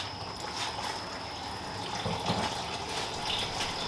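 Old differential oil draining from a Mercedes-Benz, a steady liquid trickle and patter close by, running continuously without talk.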